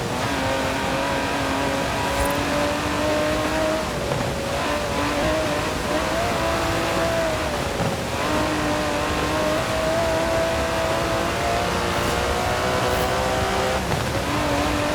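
In Forza Horizon 4, an Aston Martin DB11 with a 5.2-litre twin-turbo V12 drones loudly and continuously. The engine pitch rises and falls as it revs, with no talking.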